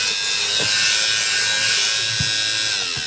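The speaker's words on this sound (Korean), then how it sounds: "지우개 그 가루들 모으는 청소기예요" A small battery-powered vacuum for collecting eraser dust whirs with a steady high-pitched buzz, punctuated by a few light clicks and taps.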